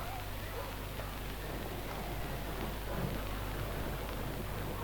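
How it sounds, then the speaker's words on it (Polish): An approaching thunderstorm in a radio drama, heard as a steady, moderately quiet wash of rain and low rumbling that holds evenly throughout, with no voices over it. "Burza idzie prosto na nas."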